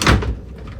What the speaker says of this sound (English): Sliding